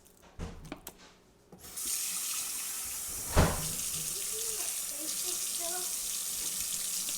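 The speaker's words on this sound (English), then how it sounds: "So now I need to rinse off my hands" Hands are rinsed under a running kitchen tap before cooking steaks, a few small clatters giving way to a steady close rush of water with splashing as the hands move through the stream.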